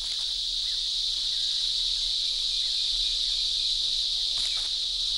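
A monotonous din of singing cicadas, a steady, loud, high buzzing drone that continues unbroken throughout, with no voices.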